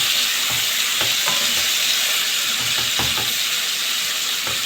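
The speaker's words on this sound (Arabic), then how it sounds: "اقلب الفراخ بالشكل ده عشان تتشوح" Tandoori chicken sizzles and fries steadily in a pan, with a few soft scraping stirs as the pieces are flipped and sautéed; a continuous close hiss carries throughout, with no talking.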